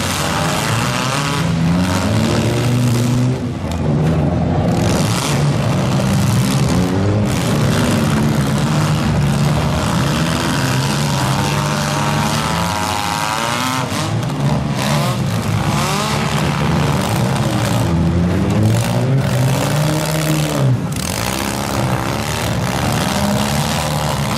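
Engines of demolition derby cars at a mini smash heat in Schomberg roar and rev continuously, with loud, rough motor noise and occasional jolting impacts throughout.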